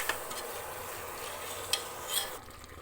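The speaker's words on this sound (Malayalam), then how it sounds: "ഇനി നമുക്കിതിലേക്ക് നമ്മൾ മസാല പുരട്ടി വെച്ചിരിക്കുന്ന ചിക്കൻ ഇട്ട് കൊടുക്കാം." Masala-marinated chicken is added to a pressure cooker and stirred, making a soft, fairly quiet sizzle with a couple of sharp utensil knocks and scrapes before the sound falls away.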